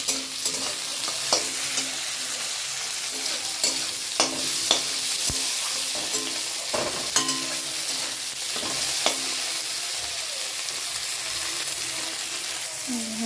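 Spices sizzle and fry steadily in hot oil as a tempering for a chickpea dish, a continuous close crackle broken by sharp stirring clinks and scrapes of a spoon against the pan.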